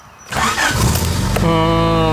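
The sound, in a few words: third generation Honda Prelude engine starting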